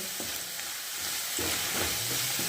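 Raw peanuts fry in a pan with a dense, continuous close sizzle, broken by a few soft stirring scrapes.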